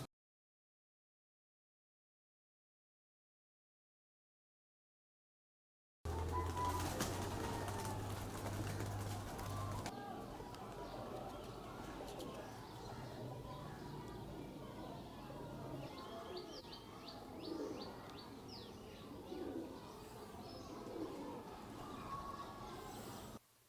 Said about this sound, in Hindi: ये हमारे मिस्त्रियों वाले कबूतर हैं।